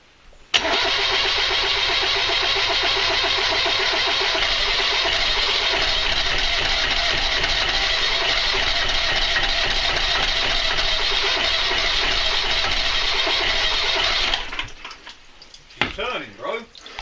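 A Yanmar 3GM30 marine diesel engine, just given a top end rebuild, cranks and fires, then runs steadily and loudly for about fourteen seconds before cutting off, with a brief voice and clatter at the end.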